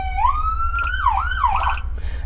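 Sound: siren of the Patagonia fire department brush truck

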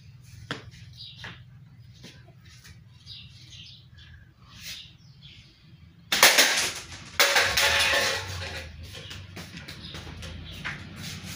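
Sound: slingshot being shot

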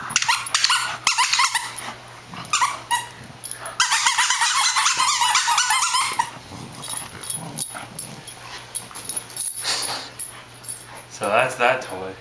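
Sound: dog playing with squeaky octopus toy

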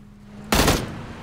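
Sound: gunfire in PUBG video game

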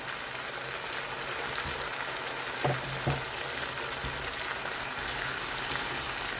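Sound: food stirred and frying in a skillet

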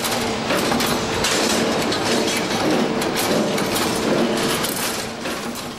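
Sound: PEDAX Twinmaster 16 II machine producing stirrups, twin strand

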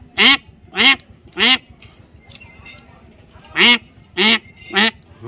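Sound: man imitating a duck's quack

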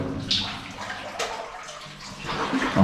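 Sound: flowing water

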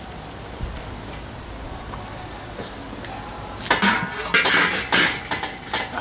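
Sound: stainless steel wok being handled on rocket stove

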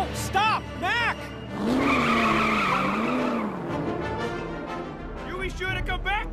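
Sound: truck doing donuts, tires skidding

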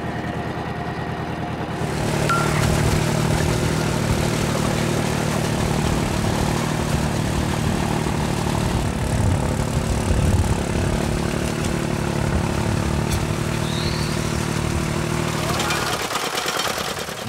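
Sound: vehicle engine running after shifting into second gear

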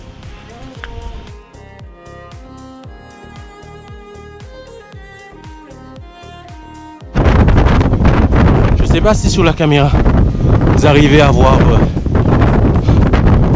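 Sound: strong wind on mountain

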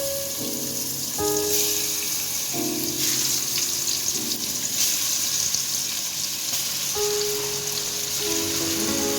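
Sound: pangas fish frying in hot oil in a wok

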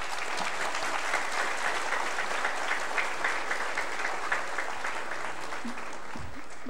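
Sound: crowd applause at an assembly

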